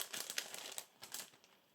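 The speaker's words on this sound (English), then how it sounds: "Here we have plastic bag with clear sprue. So let's open it." Crinkling plastic bag being opened to reach a clear plastic sprue from a 1/35 scale model kit, close and quiet with a quick run of crackles and rustles, no talking.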